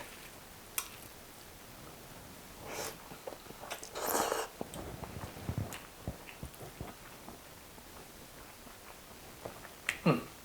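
Someone chews a mouthful of sweet instant lazy noodles topped with chopped scallions, with a few close, soft bites and slurps spaced over quiet pauses, and a louder crunchy moment near the end.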